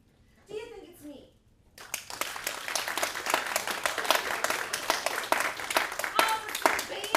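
A voice speaks briefly, then an audience breaks into sustained clapping to cast a vote in a murder-mystery game, the applause steady and fairly close.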